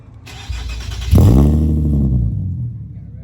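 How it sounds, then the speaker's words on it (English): An Infiniti G37 with an ISR single exit exhaust cranks briefly, then fires up with a loud, deep roar that settles into a steady, throaty idle close to the tailpipe, with faint movement before the start. "start up on the G37 ISR."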